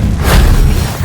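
Incendio fire spell cast in the Hogwarts Legacy video game, a single loud whooshing fiery boom that swells briefly and fades, with no talking.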